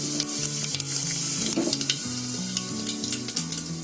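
Cumin seeds crackle and sizzle in two spoonfuls of hot oil in a pressure cooker, making a steady dense frying hiss with scattered pops. The sound is continuous and close, with no voices.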